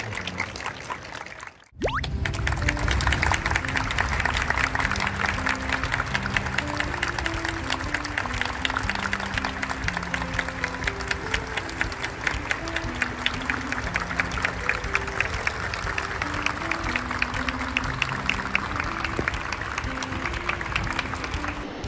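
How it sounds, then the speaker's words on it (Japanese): Sustained applause from an assembled audience greeting footballer Kaoru Mitoma as he arrives at an ANA sponsorship press conference, dense and steady for about twenty seconds after a brief pause, with music playing underneath. "ぜひ盛大な拍手をお願いします"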